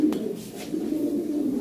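Lahori Sirazi pigeons coo at a pigeon farm, a close, low, rolling cooing that runs continuously with a short chirp near the start.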